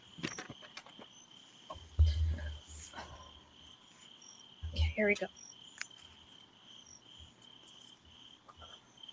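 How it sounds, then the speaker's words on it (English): Crickets chirp in a steady high-pitched trill through a calm late-night setting, faint and continuous, while people talk quietly over them. "I feel like I'm doing a reading to the sound of crickets."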